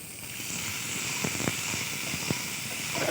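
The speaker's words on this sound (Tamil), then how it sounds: "வெங்காயம் பூண்டாக போட்டு வதக்குங்க" Onion and garlic sautéing in a hot pan, a steady soft sizzling hiss with a few faint clicks of stirring, quiet and even throughout.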